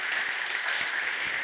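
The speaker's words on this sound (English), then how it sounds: "Please give a warm round of applause" Applause from the audience at the TROOPERS26 security conference greets the speakers, a brief, even patter of many hands lasting only a moment and heard alone.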